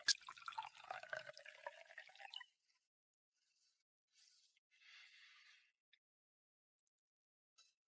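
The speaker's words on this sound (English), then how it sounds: "Pour Mr. Cross a drink" A drink is poured for a guest, with a clear liquid splash and trickle for about two seconds, then faint intermittent dripping and small pours in a quiet room.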